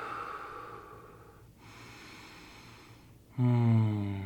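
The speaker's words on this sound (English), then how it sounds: "just some deep breaths" A few slow, deep breaths drawn in and let out close to the mic before a meal of vegan quesadillas, soft airy inhales and exhales ending in a louder, voiced sigh.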